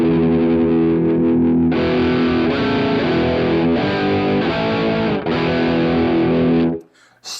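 Electric guitar played through a Boss GX10 effects processor with heavy distortion, sustained chords turning choppy and glitchy as the tracking stutters, loud and close with no talk, cutting off abruptly near the end.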